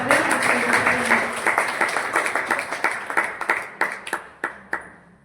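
Audience clapping at a literary gathering of short-verse poets in Mudalagi, Karnataka, welcoming a guest to the stage: a dense burst of applause that thins out into scattered individual claps and fades.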